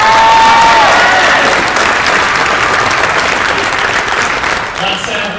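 A crowd in a high school gym gives loud, continuous applause for a retiring tech ed teacher, a dense wall of clapping that eases off slightly toward the close.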